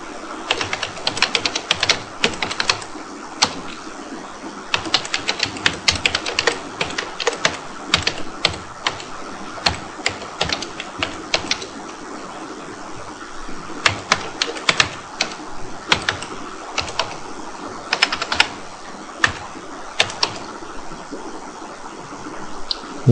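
Rapid typing on a computer keyboard, dense bursts of crisp key clicks in uneven runs with short pauses, close and fairly loud, no voices.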